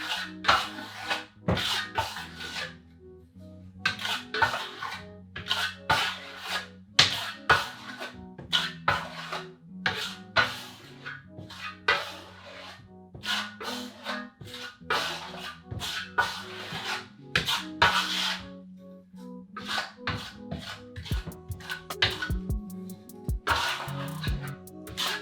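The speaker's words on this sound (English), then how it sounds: "we're gonna go ahead and trowel this on because that's the unique part about this product" Primer for Venetian and metallic plaster being troweled onto a wall, heard as repeated close scraping and rubbing strokes in an uneven rhythm, with a low musical background and no talking.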